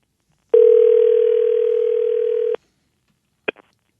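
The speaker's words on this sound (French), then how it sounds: "Luc est en train de composer. Ce sera pas long. C'est bon. Ça va sonner." A phone line gives a single long, steady tone while a call is being dialed, followed by a pause and then a short click-like blip. It is loud and clean, with no other sound behind it.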